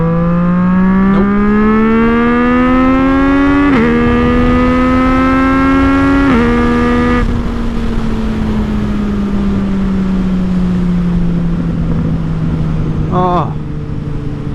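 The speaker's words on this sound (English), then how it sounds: "it just gets you going every time you crank back on that throttle" A 2018 Yamaha MT-09 motorcycle engine revs hard under throttle, its pitch climbing through several quick upshifts before easing off into a steadier drone, loud and close amid wind rush.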